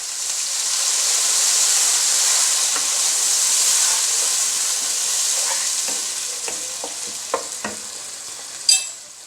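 Garlic and tomatoes frying with golden onions for aloo ki tarkari, a steady bright sizzle with a few clinks and scrapes of stirring toward the end.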